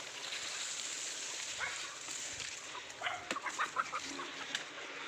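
Village chickens and a rooster clucking outdoors, a few short, fairly faint clucks and calls bunched in the second half over quiet background noise.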